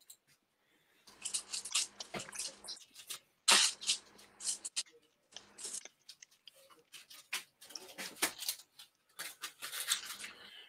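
A small piece of wood is cut by hand in a workshop, giving irregular crisp rasping and snipping strokes, close and fairly quiet, with brief pauses between the cuts.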